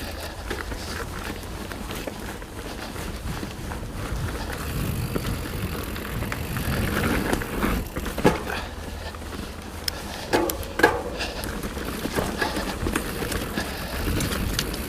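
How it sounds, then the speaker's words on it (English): A plus-size mountain bike rolls along a loamy Texas trail, tires crunching and rattling over uneven ground with a steady rush of movement and a few sharper knocks. "This is my first time ever riding a plus bike."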